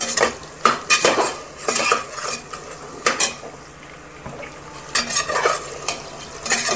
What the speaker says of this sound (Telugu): ఇప్పుడు పచ్చిమిరపకాయలు వేస్తున్నాను, కట్ చేసిన పచ్చిమిరపకాయలు.